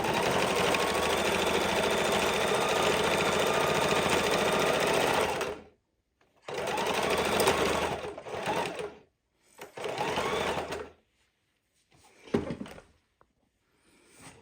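A sewing machine stitches a fidget quilt, running steadily for about five seconds, then in a few shorter bursts with pauses between them as the seams are gone over repeatedly.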